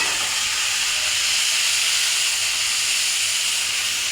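Spice paste of ground cumin, onion, garlic and green chili sautéing in a hot pan, a loud, dense, steady hiss that holds unchanged from start to finish.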